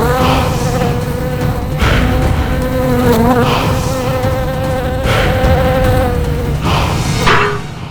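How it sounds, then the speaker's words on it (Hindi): A fly buzzes loudly and close for several seconds, its droning whine wavering in pitch, interrupted by a few sharp knocks or slaps, with no speech. "ये मक्खी मार देगी मुझे"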